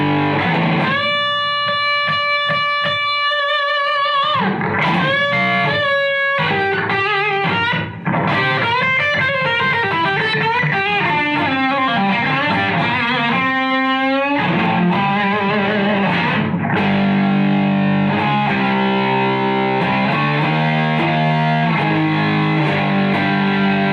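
Heavily distorted electric guitar plays sustained chords and bent notes, loud and buzzing, with no voices.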